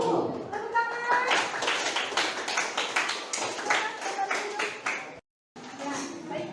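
A classroom group claps for a student group that has just presented, with sharp repeated hand claps mixed with voices chattering over them, then a brief gap before talk resumes.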